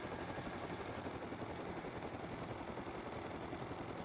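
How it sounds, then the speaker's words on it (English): A helicopter in the Rust survival game roars with a continuous loud rotor and engine drone, steady and close throughout. "Helicopter does a wheelie"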